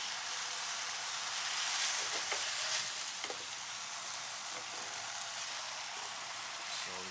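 Portobello mushrooms sizzle on a hot grill in a bright, crackling hiss with scattered pops, steady at moderate loudness throughout, with a voice faintly present underneath.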